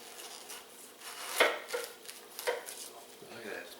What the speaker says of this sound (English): First thing I'm going to do is I'm going to cut off both ends. And let me tell you, it's a little tough.